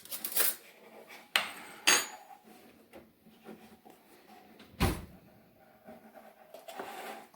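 A spoon scoops Crisco shortening into a bowl of flour, making a few sharp clinks and knocks against the bowl, then softer scraping and shuffling, fairly close and at moderate volume.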